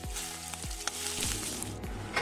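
Chopped onions sizzle and crackle steadily in hot oil in a pan, with a few soft thumps from stirring, close and alone.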